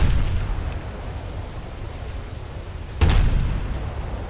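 Naval HE shells fired from the main guns of the battlecruiser SMS Von der Tann in War Thunder: one deep boom strikes about three seconds in over a steady low rumble of engine and sea, then fades.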